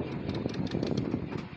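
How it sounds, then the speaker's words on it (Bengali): A boat engine idles steadily in the Sundarbans as the boat turns near Sonakhali ghat, a continuous low rumbling drone with faint rhythmic chugging, close and fairly loud throughout. "নৌকোটা ঘোরানো হচ্ছে।"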